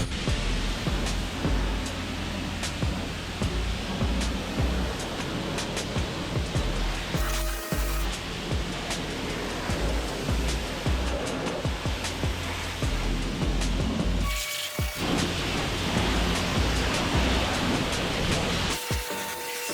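A bendable pressure washer wand blasts the underside of a Ford Raptor pickup, axles and control arms, in a self-serve wash bay: a loud, steady roaring hiss that cuts out briefly twice and then resumes, with no talking.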